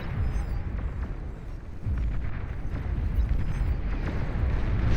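Vanguard unit firing in the real-time strategy game Beyond All Reason, continuous low rumbling booms and heavy artillery blasts rolling over each other at a moderate, distant level.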